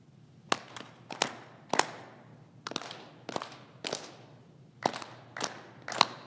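Ritual Masonic clapping giving honors of three times three to a new Grand Master at a 2020 Grand Lodge installation: nine sharp claps from a hall of people in three groups of three, loud and crisp, with no talking.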